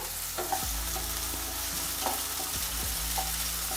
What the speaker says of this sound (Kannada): 1 ನಿಮಿಷ ಫ್ರೈ ಮಾಡೋಣ ಇದನ್ನು.